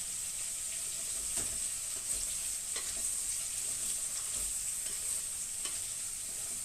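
Ukrainian pilaf with onions frying in a pan gives a steady sizzle while it is stirred, with soft scraping strokes at a few irregular moments and no voices.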